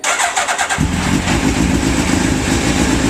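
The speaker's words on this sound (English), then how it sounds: "Just want to run the bike now for about 3 minutes, just to warm that through." A Suzuki Hayabusa motorcycle cranked over with a starter whir and then catching into a loud, steady idle close by, no talk.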